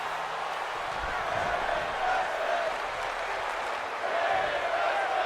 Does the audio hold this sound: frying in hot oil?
no